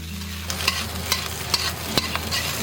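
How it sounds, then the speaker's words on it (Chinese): Eggplant stir-fried in hot oil over high heat, a steady sizzle punctuated by regular scraping strokes of a spatula in the wok, close and without speech. "给它大火炒一炒"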